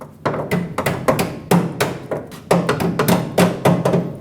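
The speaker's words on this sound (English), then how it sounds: "that was just easier for me to hammer it that way" A hammer strikes a metal brake hose locking clip on a Ford F-350 in quick, uneven bursts of sharp taps, close up, with brief pauses between flurries.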